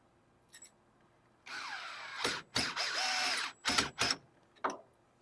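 Nut spun by hand onto the anchor bolt of a through-deck dig-in pontoon anchor, giving a few short metallic ratcheting, scraping bursts with brief pauses between, close and moderately loud, no talking.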